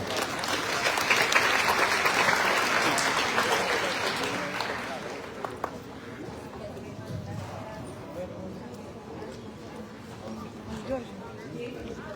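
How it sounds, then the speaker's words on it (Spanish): Audience applause at the closing of an international seminar on archives and document management, a dense, loud ovation from the start that gradually fades and thins out toward the end. "Un aplauso, por favor, para la doctora."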